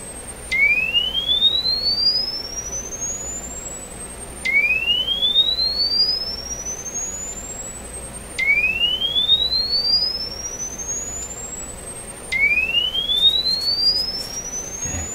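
Repeating rising sine-wave test tone sweeps play through an Airline tabletop radio, four upward glides each lasting about four seconds over a faint hiss, with no talking.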